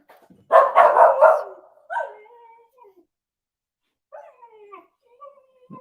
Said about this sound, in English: even though the puppy's barking at him and he's super distracted